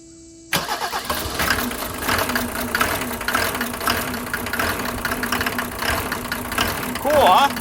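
A classic Mercedes diesel, OM603/OM606/OM617 type, cranks and fires after glow plug replacement, then settles into a loud, steady clattering idle close by.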